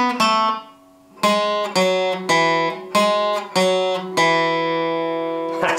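Acoustic guitar with a capo picks the opening riff of a song, a short repeated pattern of plucked single notes and ringing strings, close and clear with no talking.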